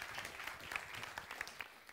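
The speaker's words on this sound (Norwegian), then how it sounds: "Da ber dere gi en applaus til Daniel Bjarmann Simonsen." Applause from an audience at a panel debate on ocean management, a soft, fairly distant patter of clapping that continues steadily through the short stretch.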